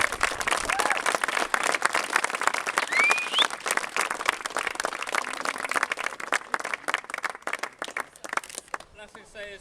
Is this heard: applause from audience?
yes